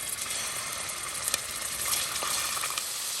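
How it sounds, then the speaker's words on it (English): Beef sears in extra virgin olive oil in a pressure cooker for a Syrian stew, a fairly quiet, continuous sizzle with a few light clicks and metallic knocks from the pot. "So now we sear the meat."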